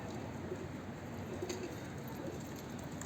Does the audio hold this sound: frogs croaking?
no